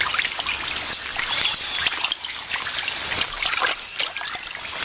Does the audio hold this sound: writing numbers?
no